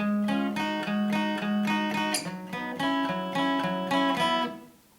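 Two bars of guitar chords played with all down strums in an even, repeated rhythm, close and full, with a slight change of fingering near the end before the last chord rings and dies away.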